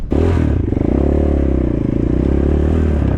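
A Shineray VXR 300 motorcycle engine runs loud and close, a strong, steady throbbing drone held for several seconds after a sharp start.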